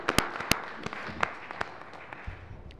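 Scattered handclaps from a small group at a board meeting: a few sharp, separate claps spread unevenly through a quiet room, fading to sparse taps.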